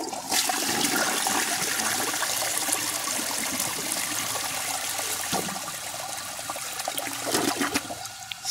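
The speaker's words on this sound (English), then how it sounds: "let's see how it flushes" A 2002 Eljer Patriot toilet flushes with a loud, close rush of water that holds steady for several seconds, then tapers into trickling and gurgling refill sounds.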